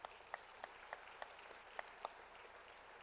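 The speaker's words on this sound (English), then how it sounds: "join me in a round of applause for the great work of our board chair" Light, sparse applause from a business luncheon audience for the board chair, a handful of distinct claps spaced out over a soft room murmur, fairly distant and quiet.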